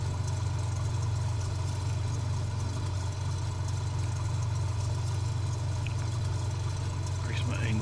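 Steady low engine drone of a Cessna 206H single-engine aircraft in a flight simulator, continuous and even throughout, with a faint brief voice near the end.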